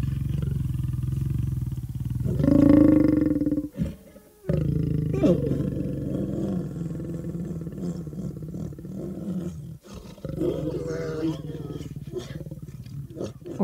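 A lion roars in deep, loud, drawn-out bursts with growling pauses between them, recorded close in the wild.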